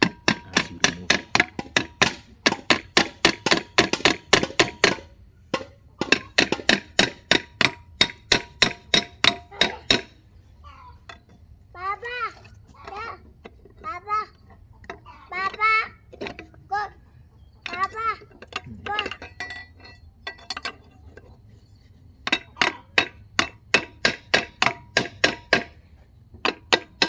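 Rapid metallic hammer strikes ring out in fast bursts while a machine's winding is being removed, pausing for a stretch of talking in the middle before the clanging resumes.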